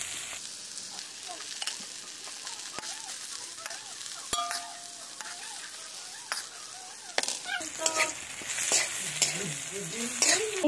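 Pieces of jackfruit are stir-fried in a pan with onions, giving a steady sizzle broken by scrapes and knocks of a utensil. The stirring grows busier and louder toward the end.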